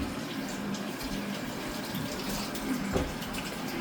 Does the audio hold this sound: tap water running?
yes